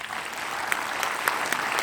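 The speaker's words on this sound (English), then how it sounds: "a special round of applause for that" Audience applause after a question is answered, a steady wash of clapping from a crowd throughout, with a few sharper individual claps standing out.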